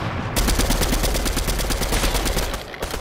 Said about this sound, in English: Another team shooting us.